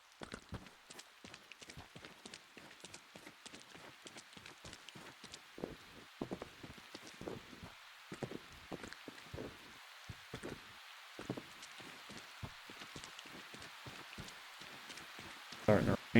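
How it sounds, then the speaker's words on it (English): Steady rain falls across a muddy outdoor map in a video game, a dense crackling patter with many small sharp ticks and taps layered through it, fairly quiet and continuous throughout. "Starting to rain."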